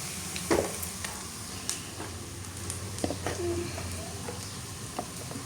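Chopped onions and whole cumin seeds frying in a pan, a soft continuous sizzle with occasional stirring clicks and a faint bird coo in the background, no speech.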